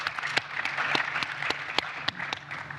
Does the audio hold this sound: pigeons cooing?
no